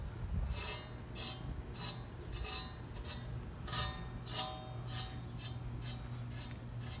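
Edge of a frying pan being sharpened, a close rhythmic scraping rasp repeating about twice per second over a steady low hum, with no voices.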